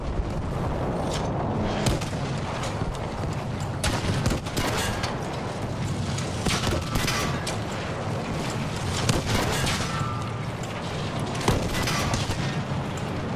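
Tank cannon fire and explosions in Battlefield V's Pacific conquest mode, a dense barrage of loud booms and blasts repeating over a constant roar of battle noise, with no talk.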